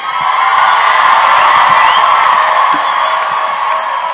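A large live convention crowd in Minneapolis cheering for Jensen Ackles and Jared Padalecki, a loud steady roar of screams and whoops that stays at full intensity throughout, with scattered clapping inside it.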